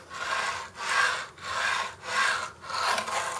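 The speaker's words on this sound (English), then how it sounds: "Now this one here is set up with my CNC bearing wheels." Skateboard with CNC-lathed, perfectly round bearing wheels rolling back and forth on a surface, making four or five smooth swelling rolls with a steady, evenly paced rhythm, heard alone and moderately quiet.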